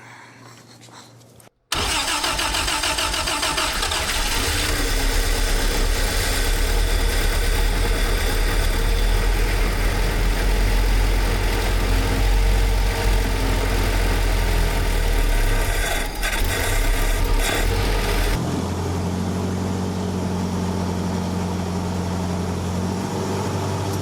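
A 1948 Willys engine turns over and catches, then idles with a steady low rumble close by, settling into a quieter, smoother idle near the end.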